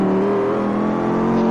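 A car in the video game Vegas Gangsteri drives at speed, its engine droning steady and loud with a slightly rising pitch, close and continuous, with no talking.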